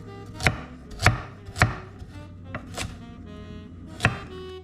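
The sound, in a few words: chopping carrots with a knife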